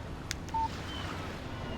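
A short electronic text message alert from a phone in the video game Alan Wake, sounding as one brief tonal beep over a faint, steady background hiss, with no talking during it.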